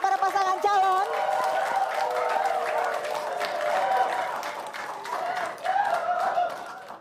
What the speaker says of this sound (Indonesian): Boleh berikan tepuk tangan yang lebih semangat lagi untuk para pasangan calon.